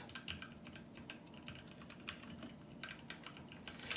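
Quick, light keystrokes rattle on an RK Royal Kludge RK71 mechanical keyboard with brown switches, an irregular run of close, soft clicks and clacks at a quiet level.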